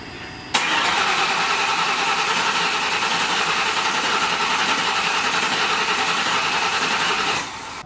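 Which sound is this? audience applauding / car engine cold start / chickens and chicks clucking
car engine cold start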